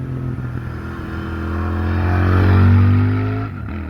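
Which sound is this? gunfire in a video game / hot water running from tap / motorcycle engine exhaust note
motorcycle engine exhaust note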